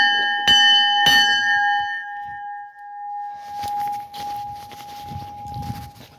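A Union Pacific Centennial 6944 diesel locomotive's bell gives two loud, ringing strikes, then a long sustained tone hums on while a crowd and footsteps fill the space at a transportation museum.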